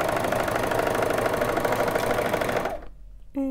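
A sewing machine runs steadily as it stitches a shirt seam for a square-neckline shirt, a continuous close mechanical whir that stops near the end, followed by a brief faint tone.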